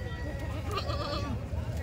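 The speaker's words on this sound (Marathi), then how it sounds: "आपल्याकडे गिरेक आल्यावर अशा शेळ्या भेटेल" Milk goats bleat at a Kathiyawadi goat market in Chalisgaon, with bleats heard close and faint under continuous talk and market chatter.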